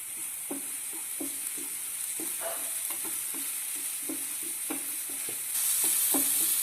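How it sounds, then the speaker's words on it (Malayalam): Chopped green chilies sauté in masala in a pan under a steady hiss of frying oil, while a spatula taps and scrapes in regular strokes; the sizzle grows louder near the end. "ഇത് നന്നായിട്ടൊന്ന് വഴറ്റിയെടുക്കണം"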